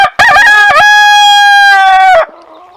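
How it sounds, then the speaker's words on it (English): A rooster crows loudly and close, one long drawn-out call with a sharp start, ending in a few clucks. "The chickens will let me talk here."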